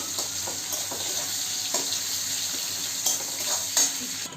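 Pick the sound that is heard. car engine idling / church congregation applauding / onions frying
onions frying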